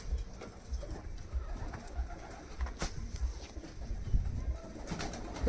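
Kalduma pigeons in a loft, including a breeding pair, give soft low rhythmic coos that repeat steadily throughout, close by, with faint wing rustles and room noise.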